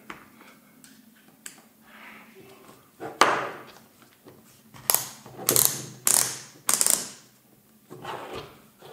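Einhell Blue Line 18V cordless impact drill (BT-ASBS 18-2 Li) chuck being tightened by hand, producing several short bursts of ratcheting clicks after quieter mechanical fiddling, close up.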